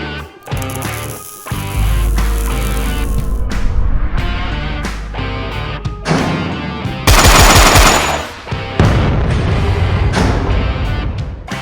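A Tavor TS12 12-gauge bullpup shotgun fires a rapid string of loud, booming shots outdoors, with the blasts coming close together in bursts and echoes ringing after them.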